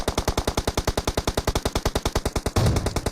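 Rapid gunfire in the battle-royale game PUBG Mobile: a fast, even string of about two dozen sharp shots at a steady rhythm, loud and close, ending in a heavier burst, no talk.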